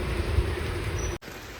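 Rain falling outside a house, a dense steady hiss with low rumble, brief and uninterrupted apart from a short cut near the end.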